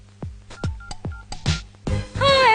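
Cell phone keypad being dialed: a quick run of short, distinct beeping tones with small clicks between presses, followed by a longer, louder electronic tone, close and clear with no talking.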